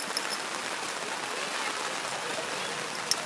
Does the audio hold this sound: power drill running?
no